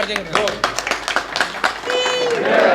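Rhythmic hand claps ring out at the final campaign event of a BJP mayoral candidate in Ward 7, several sharp claps mixed with voices talking, fairly close.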